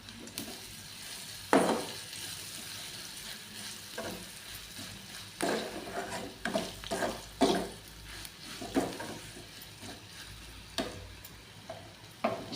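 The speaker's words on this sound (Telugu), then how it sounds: "వేసి కొంచెం వేగాలి" Curd chutney seasoning with turmeric and salt frying in a pan, a steady sizzle under intermittent scraping strokes of a spoon stirring, close and moderately loud.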